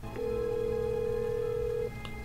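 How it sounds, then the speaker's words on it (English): A single steady electronic phone tone sounds for nearly two seconds, loud and close, stopping abruptly with a short blip afterward; the call is to a cartoon character's mobile phone. "Why does he have Kagami's phone?"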